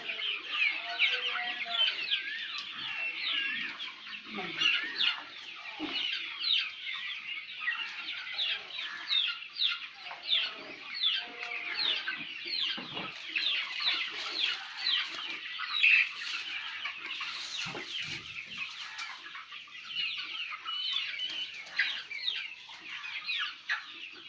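A flock of chickens clucks on a poultry farm where the birds are fed drumstick and neem leaves. Close, busy clucking and chattering overlap continuously throughout.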